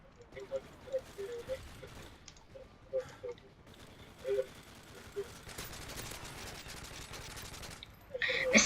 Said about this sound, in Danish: fordi jeg står og skyder ham med 100 milliarder skud